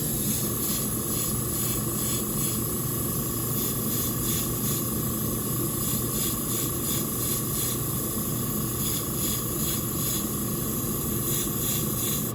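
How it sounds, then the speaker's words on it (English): An aerosol can sprays paint onto miniature figures in a steady, continuous hiss that runs unbroken close to the mic. "I don't like to breathe directly when I'm spraying"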